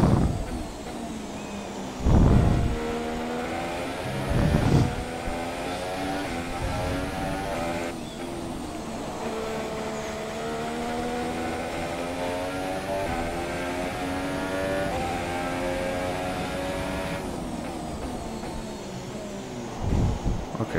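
An F1 race car in the F1 2017 video game at Circuit de Catalunya, a continuous high engine whine rising and falling through gear changes, with a few louder thumps over the track.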